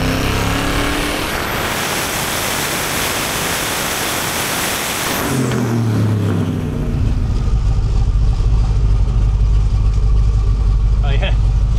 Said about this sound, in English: The more I rev it, the more fuel it needs.